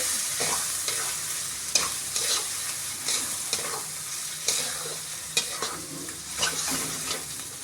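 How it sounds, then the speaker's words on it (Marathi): Homemade paneer sautéing in a pan for paneer bhaji, with a steady sizzle and repeated scraping stirs of a utensil against the pan, close and continuous with no talking. "एक पाच दहा मिनटं तुम्ही व्यवस्थित ते असे परतून घेऊ शकता"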